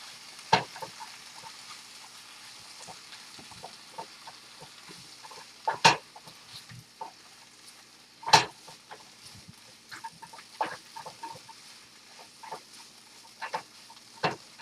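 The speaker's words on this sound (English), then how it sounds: "So I'm just kind of breaking the onions apart some. And we're just tossing." Onions and spinach being tossed in a frying pan: scattered soft sizzling with irregular scraping and clattering stirs, a few sharper knocks standing out, close by with no talk.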